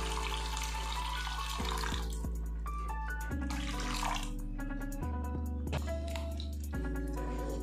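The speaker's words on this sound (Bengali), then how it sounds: "সেইভাবেই জলটা দেব আর কি" Water is poured into a pot of Bengali mustard fish curry, pouring and splashing continuously up close with a bubbling, gurgling churn throughout. No one speaks.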